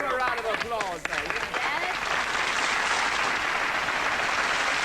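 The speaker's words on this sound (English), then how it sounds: "Give them a round of applause, mate." Studio audience in a 1980s television show bursting into applause, dense clapping rising and holding steady near the mic after a brief stretch of a spoken voice at the start.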